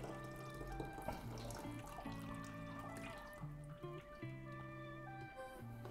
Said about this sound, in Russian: Давайте попробуем слить.